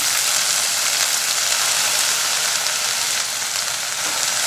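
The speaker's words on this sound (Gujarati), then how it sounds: "મેથીને સાતળવી ત્યાં સુધી આપણે ગેસની ફ્લેમ હાઈ રાખીશું હાઈ ફ્લેમ પર સાતળી લઈએ" Fenugreek greens (methi) sautéing in oil over a high gas flame, a steady, loud, dense sizzle and crackle of frying that continues evenly throughout with no voices.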